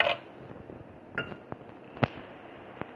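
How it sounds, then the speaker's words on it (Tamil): Ice cubes drop into a mixer jar holding pomegranate juice ingredients, giving several separate sharp clinks and knocks spaced over a few seconds against a quiet background. "ஐஸ் கட்டியையும் இதிலே போட்டுருங்க."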